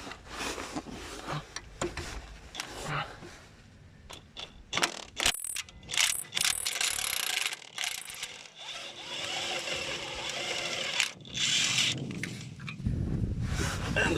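A ratchet with a 15 mm socket works a rear shock absorber bolt on a 2004 Jeep Grand Cherokee WJ, giving irregular clicking bursts and metallic scrapes, close and fairly quiet, with short pauses between bouts.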